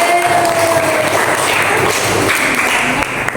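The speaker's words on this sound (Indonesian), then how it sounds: "Tepuk tangan buat kelompok 3" Classroom applause for a student group after a presentation, a loud, continuous patter of many hands that holds steady for several seconds with a faint tonal hum underneath.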